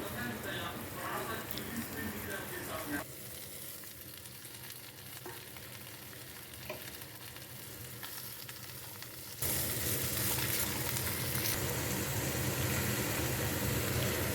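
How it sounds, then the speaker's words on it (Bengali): Potato and pumpkin pieces fry lightly in a pan, a soft continuous sizzle that quiets for a while and then rises sharply louder as the frying intensifies. "আলু আর কুমড়োটা হালকা করে সাঁতলে নেব"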